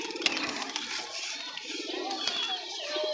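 Giribaz flying pigeons coo and murmur nearby, a low rolling call repeating over a few seconds, with some sharp clicks and faint higher whistles mixed in.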